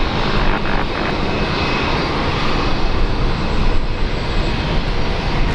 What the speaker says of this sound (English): Qantas 935, runway 19 left, tip takeoff